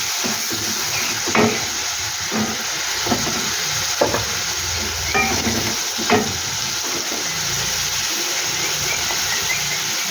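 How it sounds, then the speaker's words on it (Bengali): Sliced onions frying with cumin seeds and a bay leaf in hot oil in a wok, a constant close sizzling hiss broken by occasional light stirring scrapes. "আমি দুখানা পেঁয়াজ এখানে রেড করে নিয়েছি। পেঁয়াজ দুটো ভেজে নিই।"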